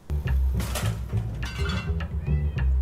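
A cat meows several times over a steady low hum, with light clattering and rustling in between.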